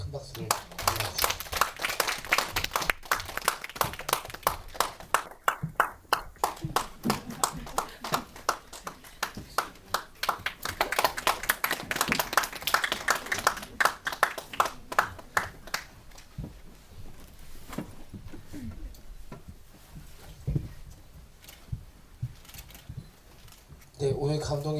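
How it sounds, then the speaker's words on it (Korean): Dense, steady applause from a cinema audience at a post-screening talk, welcoming the director and actors of the Korean film 흔들리는 물결 onto the stage, then thinning out toward the end while a host speaks. "큰 박수로 환영해주시죠"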